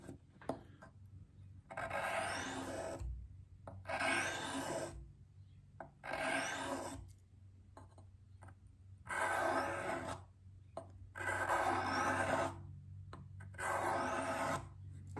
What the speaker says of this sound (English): This is the Arkansas stone. You're gonna do about 3 or 4 passes and then check it.